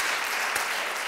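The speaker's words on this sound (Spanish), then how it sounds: "un fuerte aplauso para todos" A roomful of people applauding after a motivational talk in Spanish, a brief burst of dense, steady clapping.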